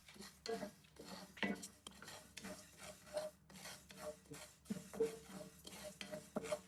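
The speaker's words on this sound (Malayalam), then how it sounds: "ഇതുപോലെ നല്ലതുപോലെ വറുത്തെടുക്കാം കേട്ടോ" Split moong dal is dry-roasted in a pan and stirred steadily with a spoon, producing repeated soft scraping and rasping strokes with faint metallic clinks, quiet and close, with no talk.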